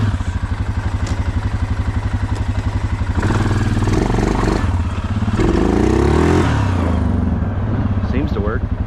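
A 2011 Suzuki Quadmaster 750 AXi 4x4 ATV engine runs loud and close in four-wheel drive, a steady pulsing idle giving way to rising revs and gear-whine sweeps, with clattering drivetrain noise and occasional talk over it.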